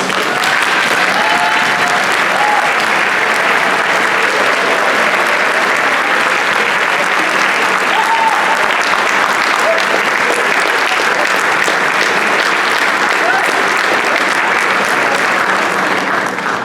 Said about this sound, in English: I'd like at this time all parents and guardians of our senior recipients to please stand so we may honor you with a round of applause.